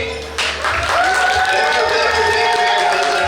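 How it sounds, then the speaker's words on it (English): A Diwali party crowd claps and cheers for Jolly, applause swelling after a moment and holding loud and steady, with voices and a music tone mixed in. "big round of applause for Jolly"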